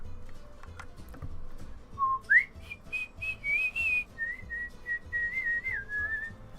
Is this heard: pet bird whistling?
yes